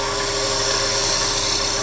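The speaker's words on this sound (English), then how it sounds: "The narrow parting tool again. I'm going to cut right into the bottom here." A narrow parting tool cuts into the bottom of a wooden snowman ornament spinning on a lathe, producing a loud, steady, high whirring hiss that holds unbroken throughout, close up and with no talking.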